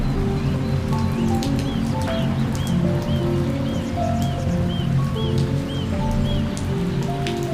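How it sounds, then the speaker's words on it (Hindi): Light drizzle in a cartoon, a soft continuous patter of raindrops with faint bird chirps repeating above it and a low musical bed running underneath. "बारिश अब हल्की फवार में बदल चुकी थी।"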